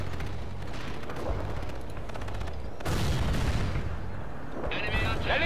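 Heavy artillery barrage in the World in Conflict strategy game, a dense continuous rumble of explosions and gunfire with a louder burst of impacts partway through, sustained throughout.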